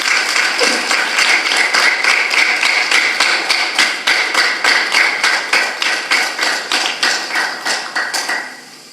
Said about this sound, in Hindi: एक बार जोरदार तालियों से आप